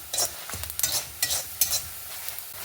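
Mustard seeds and spices with lentils frying in hot oil for a village-style salted jackfruit curry, giving soft bursts of crackle and sizzle in several short clusters, with stirring scrapes beneath and no talk.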